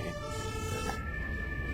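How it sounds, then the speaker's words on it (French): Emergency vehicle sirens wail steadily in the distance, faint and continuous, with a low rumble of background noise and no speech. "J'entends des sirènes derrière toi."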